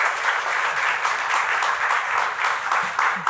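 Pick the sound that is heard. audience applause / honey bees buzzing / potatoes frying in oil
audience applause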